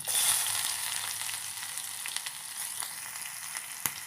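Green chilies and shallots frying in hot oil with fenugreek for a tempering for a salted mango pulissery curry: a steady, close sizzle throughout, with one sharp pop near the end.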